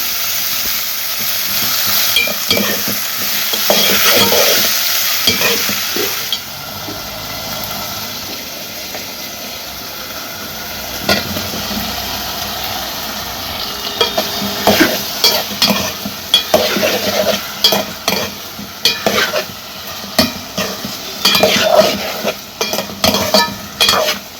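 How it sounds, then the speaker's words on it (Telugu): Onion frying in a pan with turmeric and salt, first a loud steady sizzle, then a long run of brisk, rhythmic spatula scrapes against the pan, close by and with no speech. "ఉప్పు కూడా వేసామంటే చక్కగా ఉల్లిపాయ కూడా మగ్గిపోయిద్ది"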